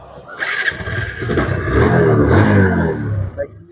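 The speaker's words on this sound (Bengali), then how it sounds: "বাইকটি স্টার দেবো আমি স্টারে সাউন্ড করে শোনার চেষ্টা করবো" An Apache RTR 2024 motorcycle engine cranks and catches, then runs loudly with a rising, rough roar before settling; the engine is close and dominant.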